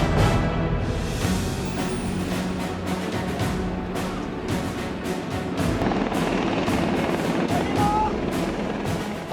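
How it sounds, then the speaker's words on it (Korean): A KAI Surion Korean-built utility helicopter, a loud, rapid rotor chop pulsing steadily with a turbine whine beneath, heard close throughout with voices speaking under it. "수리온이라고 하는 헬기입니다."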